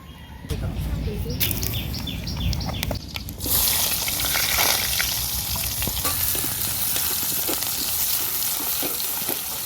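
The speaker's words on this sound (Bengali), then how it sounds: "এখানে মাছ ভাজার তেলে আর একটু তেল দিয়ে দেব" Oil left over from frying fish, topped up with fresh oil, sizzling loudly in a pan in a village kitchen; a quieter opening gives way to a dense, steady hiss with faint bird chirps behind.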